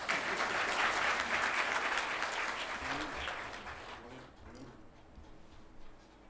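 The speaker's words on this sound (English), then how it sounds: "You should be clapping." An audience in a college hall claps together, dense and fairly loud at first, then thinning out and fading toward the end with a few scattered claps and soft sounds.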